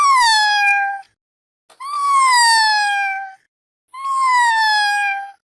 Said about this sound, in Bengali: মিউ মিউ করছিস কেন?